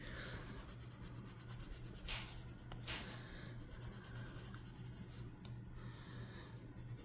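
Soft, steady scratching of a Polychromos colored pencil shading lightly across paper, layering dark bark tones, a faint continuous rasp with a few brief louder strokes and no voices.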